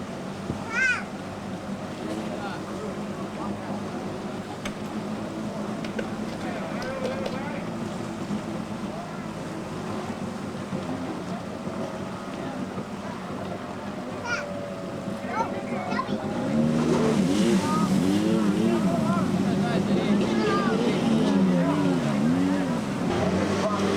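Personal watercraft racing at a 1993 Canadian Hydrocross Tour event, with steady engine drone across the water that swells louder and closer near the end, while an announcer talks over it.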